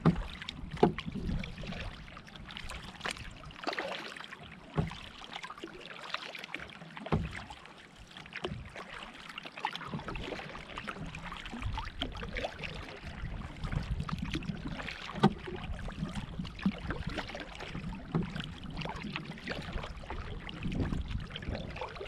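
Canoe paddling on Low's Lake, with steady paddle strokes and water swishing and trickling near the hull for a long stretch, and no voices.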